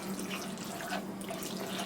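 Water pours steadily from a can or tap into a pan for homemade sloppy joe sauce with tomato paste, a continuous close splashing stream with no speech.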